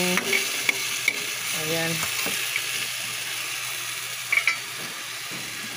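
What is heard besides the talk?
meat browning and sizzling in a pan for adobo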